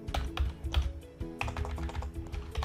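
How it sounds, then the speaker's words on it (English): Typing on a computer keyboard while changing settings in Visual Studio Code, with irregular bursts of close, clicky keystrokes and short pauses, no talk. "I type to do."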